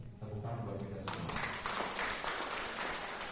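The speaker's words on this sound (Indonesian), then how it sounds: "Tepukan buat kita semua." Audience applause at an entrepreneurship training event in Cirebon, Indonesia, breaking out after about a second and continuing as a dense, steady wash of clapping. Talk from the stage fades out at the start.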